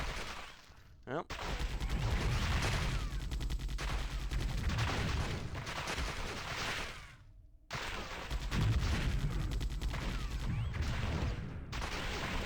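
Sustained gunfire in the Warhammer 40,000: Fire Warrior video game, a dense, steady stream of shots for several seconds, briefly cut off around the middle, then resuming just as loud.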